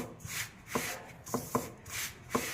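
Hands mix flour with salt in a bowl for kodubale, making soft, gritty rubbing and rustling in repeated strokes, with light knocks against the bowl, close and without talk.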